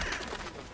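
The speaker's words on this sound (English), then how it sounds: "Hello, birds." Pigeons or doves coo briefly in a fantasy role-playing video game, The Witcher, a short soft ambient burst among game background sound.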